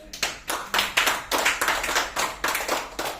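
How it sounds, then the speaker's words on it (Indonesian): An audience claps in steady bursts of applause, moderately loud and close, with no talking over it. "Tepuk tangan buat saya."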